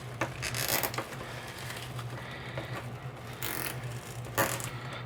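Small metal clicks and scrapes from needle nose pliers bending and twisting thin wreath wire for a Halloween flower wreath, a few sharp ticks close by over a steady low hum, with no talking.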